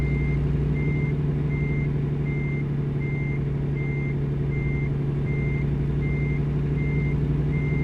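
A truck backs up to its trailer, reversing beeps sounding at a steady, even rhythm over a constant low engine drone, alone and clear throughout.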